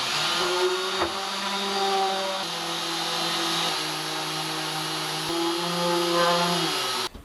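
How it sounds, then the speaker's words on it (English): A power sander works epoxy off a wooden boat under restoration, a steady loud whirring hum with a faint wavering pitch that holds unbroken for several seconds, then cuts off abruptly. "So anyway, let's just sand this epoxy off."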